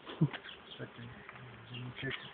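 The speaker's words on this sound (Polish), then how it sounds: "Pszczołki, pszczółki, pszczółki, dobre pszczółki." Honeybees buzz in a low, continuous drone with a few louder passes close by during honey harvesting, over faint background sounds.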